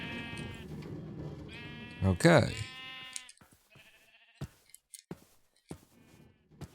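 Minecraft sheep bleat in several short, close cries amid game clicks and sound effects, with a brief spoken word in between.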